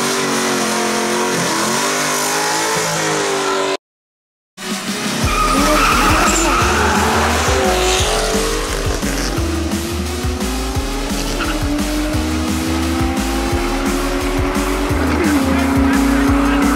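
Cars race in the Forza video game with loud, sustained tire squeals and revving engines, close and continuous apart from one brief silent gap early on.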